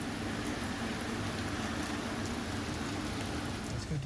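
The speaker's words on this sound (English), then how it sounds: "It's raining" Steady rain falls outdoors, a dense, even hiss of drops on surfaces that holds constant and close throughout with no talk.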